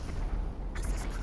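A C4 charge detonates in a GTA game targeting an Oppressor bike, a single deep boom with a low rumbling tail and a brief crackling burst near the end.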